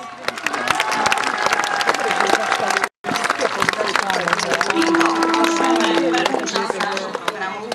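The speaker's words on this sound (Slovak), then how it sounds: "Prosím potlesk." An audience at a historical battle reenactment in Rozhanovce claps steadily, dense applause with some cheering and crowd noise, broken by a brief cut partway through.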